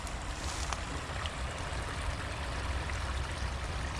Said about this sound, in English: you hear that waterfall?